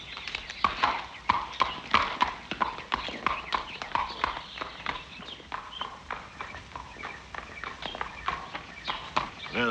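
Horse hooves clip-clop in a steady, even walking rhythm, close and clear throughout, in a 1940 American musical film set in Argentina.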